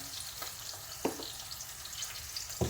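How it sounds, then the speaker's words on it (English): Onions frying in mustard oil with cumin seeds and curry leaves give a steady, close sizzle, broken by a few sharp stirring scrapes. "the onion have been cooking in the mustard oil together with all the curry leaves and cumin seeds"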